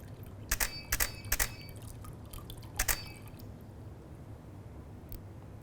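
Water dribbled from a cup in bursts for splash photography, a handful of close, crisp drip and splash spatters clustered early then one more later, over a quiet low room hum with no talking.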